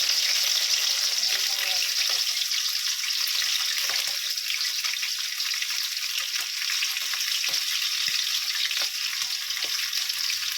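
Chicken wings coated in cornstarch flour fry steadily in hot oil, a dense, continuous crackling sizzle held close and loud throughout with no talk over it.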